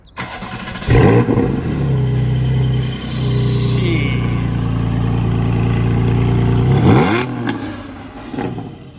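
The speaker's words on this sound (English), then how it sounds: "I'll do this start up while you changed out the exhaust" A Porsche GT4 with a manual transmission and a modified exhaust cranks and fires up, then revs loudly and holds a steady, throaty exhaust drone before a final blip and settling down.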